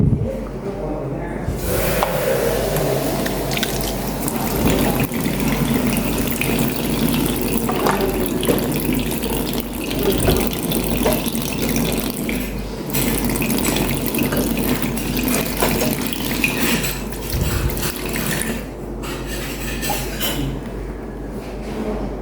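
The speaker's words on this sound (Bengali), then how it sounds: "এখন আমি বেসিনটা পরিষ্কার করব" Tap water runs steadily into a washbasin during cleaning, a loud continuous splashing stream with brief breaks and scrubbing noises close by.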